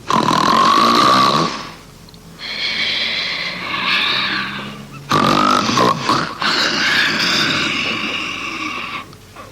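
Loud, drawn-out snoring in long rasping breaths, each followed by a pause, up close and with no talking.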